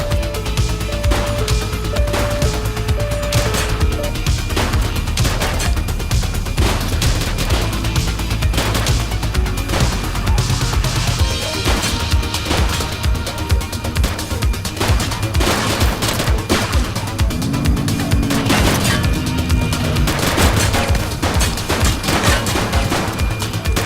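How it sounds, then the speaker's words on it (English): Sustained gunfire in The Precinct video game: dense rapid bursts of shots and machine-gun rattle with crashes and impacts, loud and continuous throughout. "Check your fire! She's shooting! Shots fired!"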